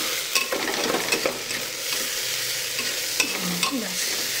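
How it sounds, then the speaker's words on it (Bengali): Dal khichuri being stirred and fried in a pot, with steady scraping strokes over a constant soft sizzle, close and moderately loud, no voices. "নাড়াচাড়া করা কমপ্লিট।"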